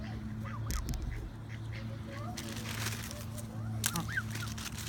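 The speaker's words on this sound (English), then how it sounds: "That's a little baby goose." Ducks and geese, including a young gosling, in a city park in Livingston, Montana: several nasal quacks and honks near the microphone over a low steady hum, with someone talking between the calls.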